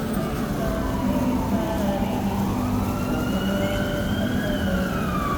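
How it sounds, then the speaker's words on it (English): An emergency vehicle siren on a Chicago street, wailing up and down over the constant rumble of traffic, loud and fairly close, with faint voices in the background. "That's very nice with the siren."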